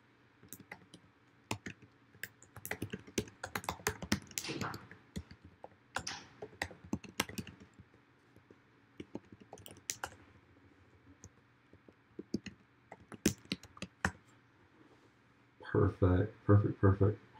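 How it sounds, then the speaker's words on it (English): Keys on a computer keyboard are typed in scattered bursts of quick clicks and taps, close and fairly quiet, with pauses between runs and a denser flurry near the end. "I'm just going to type in here really quick so you know where it's at"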